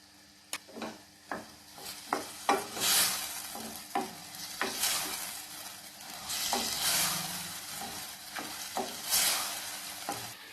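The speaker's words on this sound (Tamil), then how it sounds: "தக்காளியையும் நல்லா வதக்கிக்கலாம்." Chopped tomatoes sauté in a pan for a Tamil vendhaya keerai kulambu, a soft steady sizzle under repeated scraping stirs of a spoon against the pan, close and fairly quiet.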